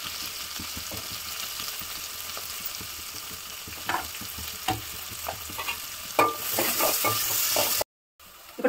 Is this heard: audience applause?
no